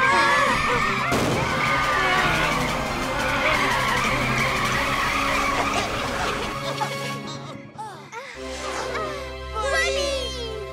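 Cartoon car Cracra drives fast at night and skids, with screeching tyres and engine noise mixed under excited children's and character voices talking, ending in a bang-like pause before more talk.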